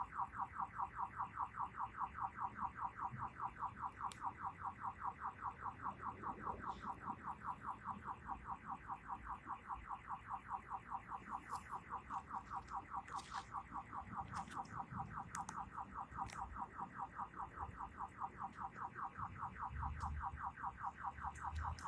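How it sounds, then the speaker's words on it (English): A parked car's oversensitive alarm blares a steady, rapidly repeating electronic pulse for the whole stretch, heard from a moderate distance with faint outdoor background noise. "I guess the alarm's a little sensitive"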